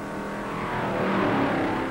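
Stock race car engines roar at full throttle down the beach at the 1958 Daytona Beach Grand National race, a loud, sustained mechanical drone that swells slightly as it goes.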